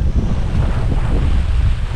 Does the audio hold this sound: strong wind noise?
yes